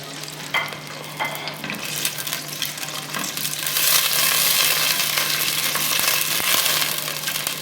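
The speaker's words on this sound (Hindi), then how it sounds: "साथ ही में जो है वो हम अपने करी पत्ता डाल देते हैं, जस्ट स्टर करते हैं।" Curry leaves dropped into about half a cup of hot oil and stirred, a close crackling sizzle with a few sharp clinks early on, swelling into a louder, steady hiss partway through.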